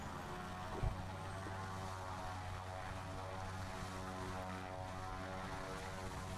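A small propeller aircraft drones at a runway, a faint, steady engine hum with harmonic tones heard from a distance throughout, with a brief soft thump near the start.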